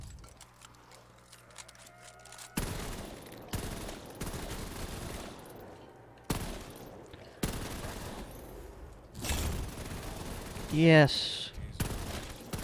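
An MG42 machine gun fires in a Call of Duty Black Ops 3 custom zombies map, heard as repeated bursts of rapid gunfire broken by short pauses, with game sounds and a voice speaking briefly.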